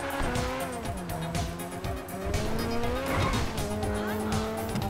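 A car races in a video game with engine roar rising and falling through gear changes and tires squealing through corners, loud and continuous.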